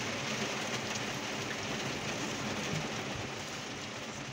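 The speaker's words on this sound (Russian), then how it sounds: "Дождь идет?" Steady rain hisses continuously, a dense even wash of patter with no voices, moderately loud and close.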